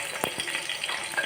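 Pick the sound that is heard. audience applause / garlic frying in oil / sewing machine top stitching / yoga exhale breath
garlic frying in oil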